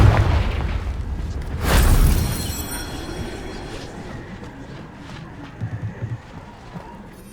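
A Confringo blasting curse from Hogwarts Legacy goes off as one loud rumbling blast that swells and fades, followed by faint rattling debris and a few soft thuds.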